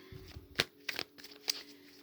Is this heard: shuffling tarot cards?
yes